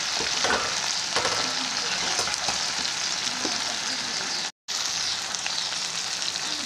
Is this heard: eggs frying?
yes